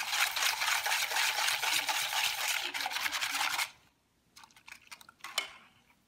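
Milk, heavy cream and cornstarch stirred together for egg tart filling, a steady scraping whisk against a bowl that stops abruptly, followed by a few lighter clinks and taps.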